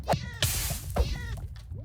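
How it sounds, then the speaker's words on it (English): A cat in the Minecraft video game meowing, a few close, clear mews in quick succession. "Hello, lava cat."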